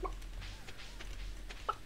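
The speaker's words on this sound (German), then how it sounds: "gehen wir mal hier rein und schauen mal nach unseren Hühnern" Chickens cluck in the farm game Stardew Valley, with a few soft, short clucks at the start and end over a quiet background.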